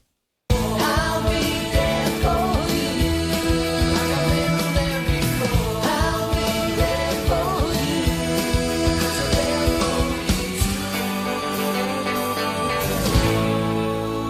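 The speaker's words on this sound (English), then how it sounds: "When people heard this theme song, they would run to the couch" A full, upbeat band arrangement plays continuously at steady loudness, dense with guitar, drums and bright cymbals, like a television theme song, with no talking.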